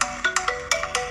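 A smartphone ringtone, set off by the find-phone feature of an Honor Band 9 fitness band, plays a loud, close, bouncy melody of quick plucked notes in a repeating rhythm, with no one speaking.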